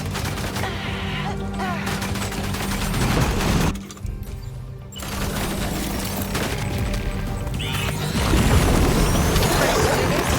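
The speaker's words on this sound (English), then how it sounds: "Okay, tomorrow. Ready? Open fire." Gunfire in the video game Death Stranding 2, dense rapid bursts and crashing impacts over a busy game soundscape, with a short lull and then heavier shooting near the end.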